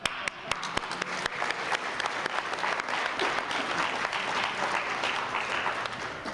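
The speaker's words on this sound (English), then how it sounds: "I'd like to clap." A lecture audience breaks into applause, starting with a few distinct claps and quickly swelling into a full, steady round of clapping that carries on throughout.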